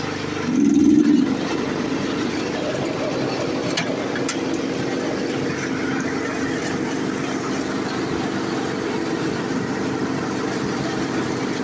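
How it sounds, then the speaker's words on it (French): An MTD 76 lawn tractor mower with a Torx engine runs with its blades engaged, giving a steady, close mechanical drone that holds throughout after a brief louder surge near the start. "ce petit modèle MTD 76 avec un moteur Torx fonctionne, ma foi, pas trop mal"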